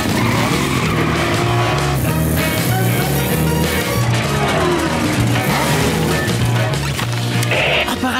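Cartoon race cars launch off the starting line with loud revving engines and squealing, skidding tires, a dense, continuous roar of motors throughout with no voices over it.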